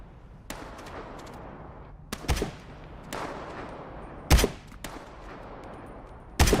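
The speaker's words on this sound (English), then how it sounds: "They're still shooting something." Scattered gunshots in Into the Radius 2, a handful of sharp cracks spaced irregularly over several seconds, some moderately loud and others more distant, over a low background rumble with no talking.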